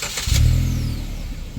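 A Maruti Suzuki Ignis with a K12B petrol engine running nearby, a short burst of sharp clatter rising into a low, steady hum that holds smoothly and eases slightly.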